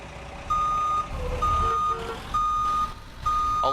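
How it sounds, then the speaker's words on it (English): A school bus backing up, its reverse alarm sounding four evenly spaced loud beeps over a low idling engine rumble. "I'll learn one of these days to back this bus up properly"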